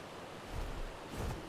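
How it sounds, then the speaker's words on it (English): A waterfall in the game ARK Survival Ascended gives a faint, continuous rushing wash with gentle low swells of roaring water and no voices. "We're over here by a waterfall."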